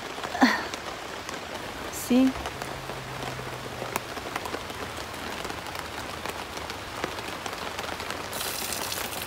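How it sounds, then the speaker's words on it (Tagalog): Steady heavy rain patters densely on a tent nearby, with a couple of brief voice fragments breaking through the constant hiss. "Ang lakas ng ulan."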